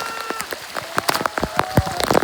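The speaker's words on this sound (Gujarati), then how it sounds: "ફાઇનલી મિત્રો વરસાદ ઇઝ કમિંગ" Steady heavy rain pattering close by on Girnar mountain, with sharp drops striking a surface throughout and no voices.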